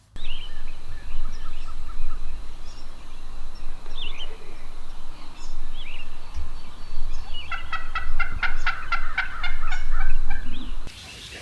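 A wild turkey gobbles in the open during a spring hunt, several loud rattling gobble bursts rising near the end over steady outdoor background noise, with no voices.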